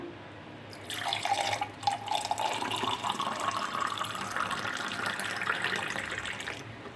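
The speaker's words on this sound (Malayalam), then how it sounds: "ഇനി നമുക്കിതൊരു ഗ്ലാസ്സിലേക്ക് പകരാം" After a brief quiet moment, homemade sugarcane-style juice streams steadily into a glass, its pitch rising gradually as the glass fills, before the flow stops.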